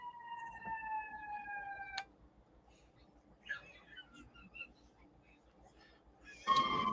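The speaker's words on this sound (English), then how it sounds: "ambulance going by." An ambulance siren wails briefly as it goes by, its rising tones clear in the first two seconds before cutting off, leaving a quiet room with faint sounds and a short burst of noise at the end.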